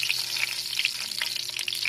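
Oil sizzles and crackles steadily as a field frog fries, a close, busy frying sound with quick pops throughout and no voices.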